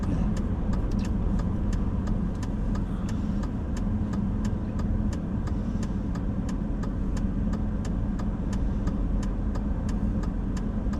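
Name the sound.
two-door Ford Maverick car engine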